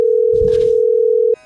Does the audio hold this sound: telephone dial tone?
yes